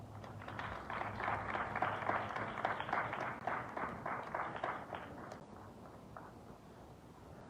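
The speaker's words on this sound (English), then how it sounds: "Give a round of applause for Ms. Angela Hunt." Sustained applause from a crowd, a steady wash of many hands clapping that gradually tapers off toward the end.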